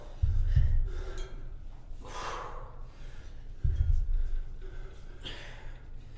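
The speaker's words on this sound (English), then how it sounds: "you don't want to hear me breathing, huffing and puffing" Heavy breathing with sharp huffs and puffs from a person doing a kettlebell workout, loud bursts repeating every few seconds close to the microphone.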